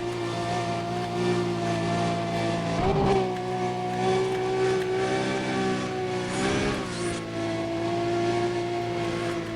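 A car engine hums steadily while accelerating in the racing game Need for Speed: Undercover, its pitch rising and falling slightly, with brief whooshes around three and seven seconds, moderately quiet and without talk.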